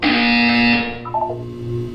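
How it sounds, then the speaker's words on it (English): A loud, harsh electronic buzzer from the video game Portal 2 blares for under a second, then cuts off into a fading hum. "When you hear the buzzer, look down at the floor."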